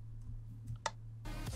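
A wooden pressure plate in Minecraft is stepped on, giving a single faint, dull click over a low steady hum, followed by a brief burst of soft noise.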